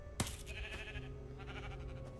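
A sheep in the video game Minecraft: Story Mode lets out a wavering bleat after a short sharp click, fairly quiet and clear with no speech over it.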